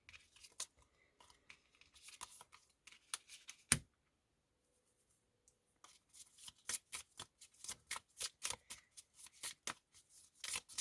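Tarot cards being shuffled in quiet bursts of quick papery riffles and flicks, a pause in the middle, then a long run of crisp, rhythmic card slaps close up, with no voices.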